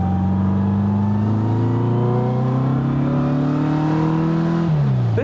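A restored 1950s Porsche 356 Speedster engine pulls hard on a test drive, the close, loud engine note rising steadily through a gear before a quick shift drops the pitch and it climbs again.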